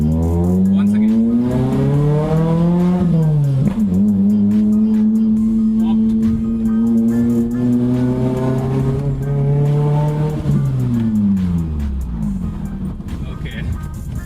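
A modified Maruti Baleno sedan with a G16B engine revs up and down loudly and steadily, its pitch rising and falling, with a few crackles and pops from the exhaust.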